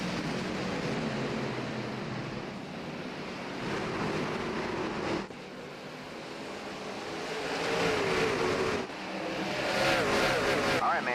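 Race truck engines roar steadily at IRP in a short-track sim racing truck series event, a continuous loud drone with wind-like noise and surges in pitch, no talk over it.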